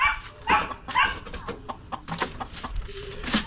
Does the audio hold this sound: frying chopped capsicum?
no